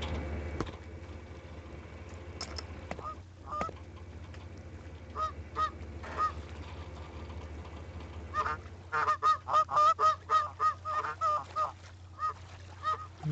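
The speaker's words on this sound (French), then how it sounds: "Les canards ont une drôle de voix." Ducks in the video game Thirty Flights of Loving give a string of honking quacks, scattered at first and then a rapid burst of repeated calls near the end, over a steady low hum.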